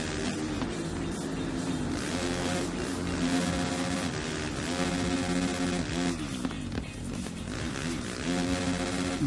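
Motocross motorcycle engine in the MXGP3 racing game whines loudly and continuously, its pitch climbing and dropping with repeated revs and gear changes throughout.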